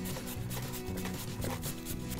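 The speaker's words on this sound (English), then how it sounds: "I have one carrot and I'm just gonna start grating that in." A carrot is grated by hand for a vegan meal prep, giving a steady, close scraping rasp with quick repeated strokes and no talking.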